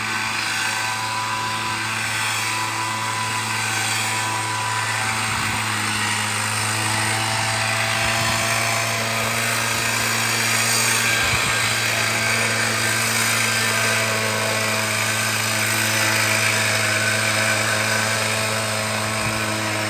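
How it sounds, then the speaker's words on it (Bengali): Tea-plucking machine harvesting tea leaves in a garden, a loud continuous motorized drone with steady engine hum and whine throughout, no voices. "দেখতে পাচ্ছো কীভাবে মেশিন দিয়ে চাপাতি তোলা হচ্ছে?"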